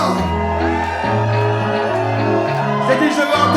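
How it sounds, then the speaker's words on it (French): Wedding guests at a Congolese and Ivorian celebration in Paris shout and whoop with joy over loud, pulsing dance music, the cries rising in bursts above the beat. "Je veux entendre des cris de joie"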